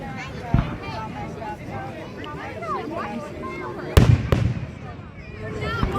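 Fireworks bursting outdoors, with a sharp nearby bang early on and a louder cluster of booming cracks later, amid crowd chatter and voices throughout.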